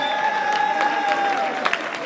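An assembly hall crowd at a general meeting acclaims a newly chosen president with applause and some cheering, a continuous clatter of hands under a sustained tone and brief voices.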